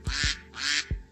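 A duck in the Minecraft video game gives a few nasal quacks in quick succession, close and fairly loud, with no talking over them.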